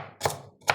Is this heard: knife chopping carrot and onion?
yes